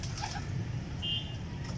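Pigeons in a loft coo softly, a low murmuring coo rolling under a steady background hum, with a brief higher chirp partway through.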